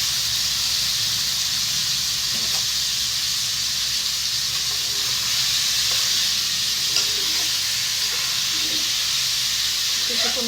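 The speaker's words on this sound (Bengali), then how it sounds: "মশলাটা কষিয়ে নিচ্ছি এরকমভাবে, আর একটু কষবে। কলিজাটা অ্যাড করে দিচ্ছি" Beef liver stir-fried in a spice paste in a hot pan gives a loud, constant sizzle and hiss that stays steady throughout, with occasional faint scraping from stirring.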